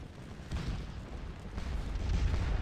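Artillery fire in the Napoleonic-era battle game Scourge of War, a muffled, distant rumble of cannon booms with a stronger thud about midway and the low roar building toward the end.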